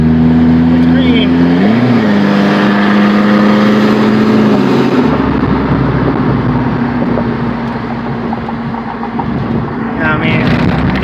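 A straight-piped GM 2.2L engine in a car pulls and accelerates, a loud raw exhaust drone that rises in pitch and then settles into a steady rumble, with someone talking over it.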